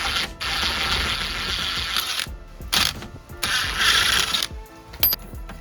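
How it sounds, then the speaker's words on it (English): Impact wrench removing a 17mm lower control arm bolt on a Honda Pilot rear suspension, loud rapid hammering bursts separated by short pauses, with a few sharp metallic clicks near the end. "now we'll remove that 17mm bolt with our impact"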